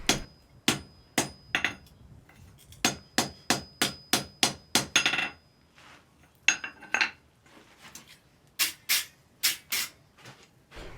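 A blacksmith hammers a forged chain link into an oval shape, sharp ringing metallic strikes in quick bursts with short pauses, loud and close with no talk.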